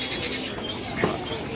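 A white-rumped shama songbird in a bird kiosk, giving short bright whistled phrases with a clear chirp and a soft cooing note, close and alone.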